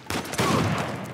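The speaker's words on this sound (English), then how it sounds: "Oh my goodness, that shotgun." Gunfire in Uncharted 4, including shotgun blasts: a dense, continuous barrage of shots and explosions filling the whole short stretch at high volume.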